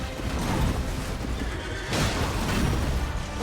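Horse neighs loudly in Elden Ring combat, a close whinny with rough clip-clop and a second sharp neigh near the middle, set against dense, continuous game noise.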